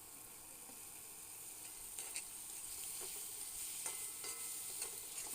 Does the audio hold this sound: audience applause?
no